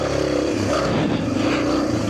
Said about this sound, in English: This is a 4-stroke Lazy Man's bike.